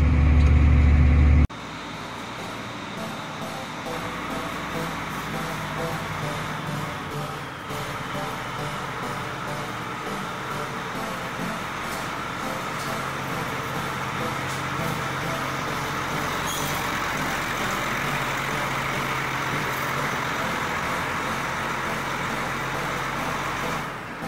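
An old tractor engine runs steadily with almost no smoke, giving a continuous mechanical drone that stays even and fairly loud after a brief, heavier burst at the start.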